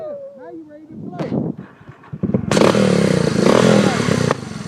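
A kids' ATV engine starting up and running nearby after a few clanks and brief speech, settling into a loud steady buzzing drone that continues to the end.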